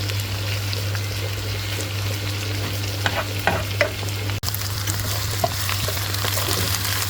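Bitter gourd and Bogra red potatoes frying and being stirred in a pan, a steady close sizzle broken by a few scraping stirs, with a low hum underneath.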